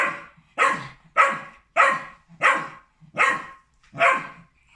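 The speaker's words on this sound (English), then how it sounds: "let me know in the comments if you think that's resource guarding with either one of those dogs with that barking" A dog barks in a steady series of about seven loud, evenly spaced barks heard from a played recording, each burst sharp and full with brief gaps between them.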